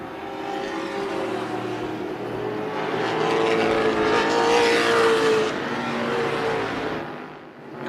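Race cars battle wheel to wheel at Tucson Speedway, a loud, steady roar of several engines that swells as the pack passes close by, then fades slightly at the end.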